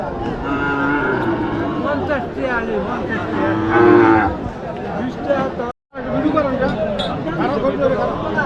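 Cattle at a busy cattle and buffalo market in Amraid low repeatedly and loudly, with long moos rising over the steady chatter of people talking close by.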